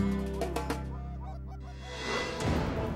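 Geese honk loudly and repeatedly during a goose hunt, several calls overlapping close by before a burst of noisier, rougher honking at the end.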